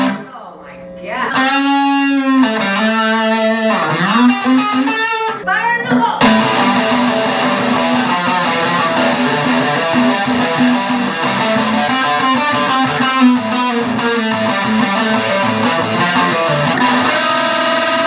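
An electric guitar played through a Gibson GA-5 Les Paul Jr. amp with the volume halfway up gives a loud, driven, slightly distorted tone, picking single notes and then strumming steady sustained chords without a break.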